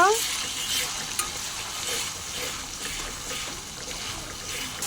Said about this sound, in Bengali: তেলের ভেতরে আমরা রসুন বাটা দিয়ে দিচ্ছি দিয়ে দিচ্ছি জিরা বাটা কাঁচামরিচ বাটা পেঁয়াজ বাটা দিয়ে নাড়াচাড়া দিয়ে নিব